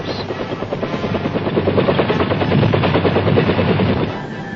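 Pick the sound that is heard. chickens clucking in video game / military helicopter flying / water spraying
military helicopter flying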